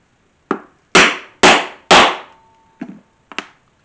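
A hammer sets a rivet on a Halloween-themed guitar strap: four loud, sharp, evenly spaced blows ring out close by, followed by two lighter taps, with no talking.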